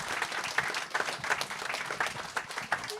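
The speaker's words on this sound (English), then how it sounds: "Let's give Anne a big round of applause for a wonderful evening." A bookstore audience gives author Anne Hillerman a sustained round of applause at the close of an evening book event, with dense, even clapping running throughout at moderate distance.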